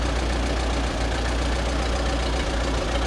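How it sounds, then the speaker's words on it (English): An Oliver 66 tractor engine idles with a steady, loud, low rumble that holds evenly throughout, with faint irregular knocks beneath it and no voices. "This one you can just idle it down,"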